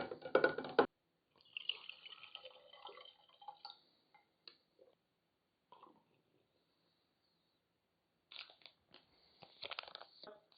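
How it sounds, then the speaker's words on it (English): Kombucha poured over Kool-Aid powder, with intermittent splashing and crackly fizzing bursts broken by silent gaps, close and fairly quiet. "I'm going to go ahead and add the kombucha right away."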